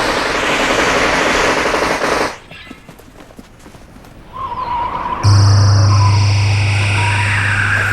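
Automatic gunfire in a film shootout through a window, a loud rapid burst up front that cuts off abruptly into a quieter stretch, followed by a sharp shift to a steady tonal drone.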